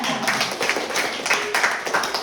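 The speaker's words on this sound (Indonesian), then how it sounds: "Oke, tepuk tangan dulu Mbak Siska." A classroom of students claps for a classmate, a short burst of uneven, close hand claps with quick rhythmic accents.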